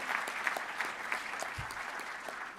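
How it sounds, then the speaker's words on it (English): Audience applause at a graduation ceremony, a steady patter of many hands clapping close by for a couple of seconds with no talk over it. "Let's give our governor a round of applause for his great work."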